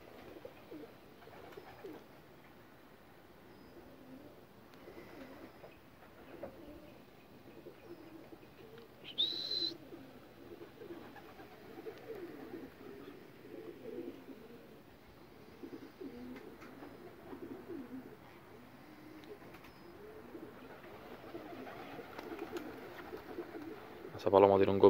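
Racing pigeons return from a 55-mile race, soft cooing running under voices talking at the loft, with a brief sharp chirp midway and a louder burst of calls at the end.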